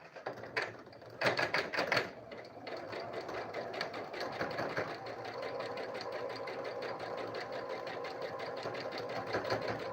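A sewing machine runs a fast, steady stitch along a patchwork seam, starting with a few short bursts before settling into a continuous close, rhythmic hum.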